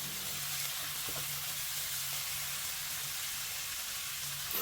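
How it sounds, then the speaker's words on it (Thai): Squid and fresh shrimp hit a hot pan of golden fried chopped garlic for a Thai curry-powder seafood stir-fry, giving a loud, steady, close sizzle that hisses on evenly without any talking. "กระเทียมสับเหลืองหอมดีแล้วครับ เชฟก็จะใส่ปลาหมึกลงไป 200 กรัมเลยครับ กุ้งสดอีกประมาณ 100 กรัมครับ"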